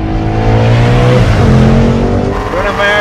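A Ford Mustang engine revving loud and close, with rising and falling harmonic tones as it accelerates and shifts, a voice talking over it.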